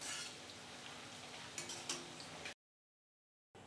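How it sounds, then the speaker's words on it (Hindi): Carrot slices fry in hot oil in a kadhai over a medium flame, giving a steady close sizzling hiss with a few light clinks for about two and a half seconds before cutting to silence. "एक कढ़ाई में हमने थोड़े ऑयल को गर्म करने के लिए रखा है जिसमें हम गाजर के पीसेस को फ्राई करेंगे"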